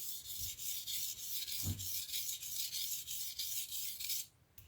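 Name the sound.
grinding a blade on a 400 grit sharpening stone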